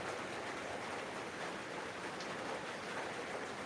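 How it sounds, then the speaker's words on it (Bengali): Heavy rain falls during a downpour in Niamatpur, Naogaon, making a constant, fairly faint wash of noise that holds steady with no breaks or distinct drops. "আর হঠাৎ বৃষ্টি শুরু হয়ে গেল"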